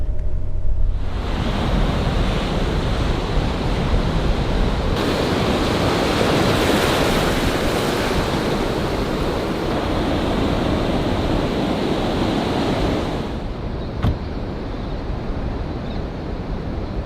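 Ocean surf rolling onto the beach at Padre Island National Seashore, a steady loud wash of breaking waves with wind across the microphone, continuous for most of the stretch before dropping away near the end.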